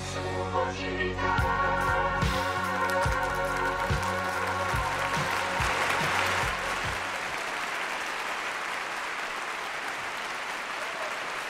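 An audience applauds at a live music show, a broad wash of clapping that begins under the fading last chords of the song and then carries on alone at steady loudness.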